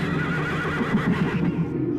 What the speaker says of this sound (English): When the horses are attacked, Thorne wants to help